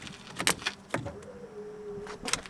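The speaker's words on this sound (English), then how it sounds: "So yeah, some electric motor." An electric motor in a motorhome whines steadily for about a second, with sharp clicks and clunks just before and after it, close by and with no talking.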